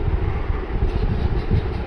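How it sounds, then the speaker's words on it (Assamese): A moving passenger train rumbles steadily with a low, rolling clatter of wheels on track, heard up close from on board. "ট্ৰেইনত উঠি আমি এতিয়া গৈ আছোঁ"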